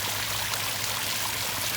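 Water pumped through a restored concrete fountain pours and splashes steadily, a close, continuous rushing stream with an even level throughout and a faint pump hum beneath, no voices.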